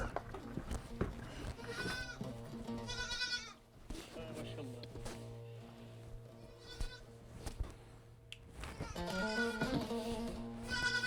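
Goats bleat repeatedly at close range in a rural farmyard, wavering cries arriving in several bursts while someone talks over and between them.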